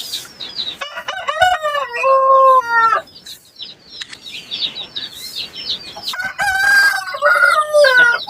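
A loud rooster crows nearby, then after a short lull another long crow follows, with clucking and scattered chicken calls around it.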